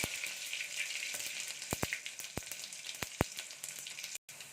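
Onions and mustard seeds sizzle steadily in hot oil, a bright continuous hiss broken by a few sharp pops and crackles.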